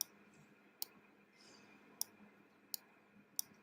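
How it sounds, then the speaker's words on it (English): Computer mouse shift-clicks during a line drawing assignment: four sharp, isolated clicks spaced about a second apart over quiet room hiss. "so I'm going to shift click and make it bigger"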